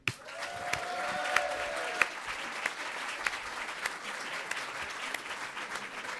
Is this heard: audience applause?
yes